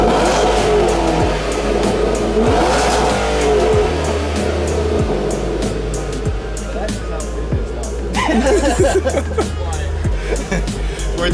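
A Ford Mustang GT500 with a new exhaust revs repeatedly up close, loud rising and falling engine roars in bursts over a steady idle rumble, with people talking underneath.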